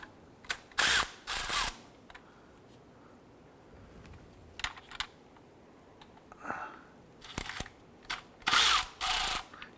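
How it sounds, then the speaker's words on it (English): Bursts of ratcheting clicks from a ratchet breaking loose the 10mm bolts around a water pump on a 2009-2015 Honda Pilot engine, several short close spurts separated by pauses, with no talking. "there are 5 10mm bolts holding this in position"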